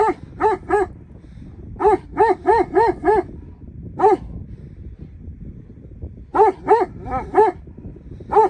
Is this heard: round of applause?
no